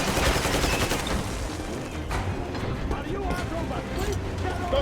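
Gunfire from Metro Exodus, a dense run of shots through a battle scene while escaping Moscow, mixed with shouting voices and loud continuous noise throughout.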